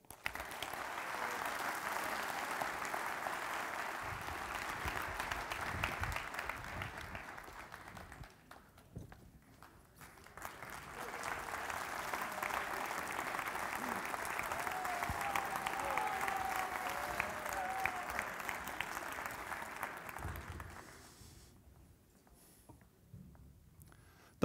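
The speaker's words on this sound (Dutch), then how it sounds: "Mag ik u hartelijk applaus voor de 12 lijsttrekkers voor de Provinciale Staten van Overijssel" A hall audience applauds the 12 lead candidates at a provincial election debate in Overijssel. Two sustained rounds of dense clapping come from a sizeable crowd, with a short dip between them, before the noise fades away.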